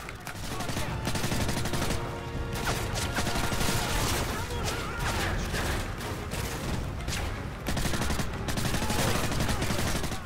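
Rapid bursts of automatic gunfire crackle almost without pause in a Call of Duty MW3 match, loud and dense with scattered impacts layered through the barrage.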